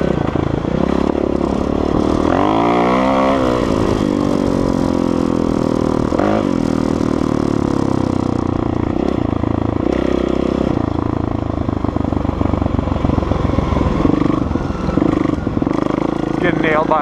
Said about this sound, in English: getting nailed by a quad here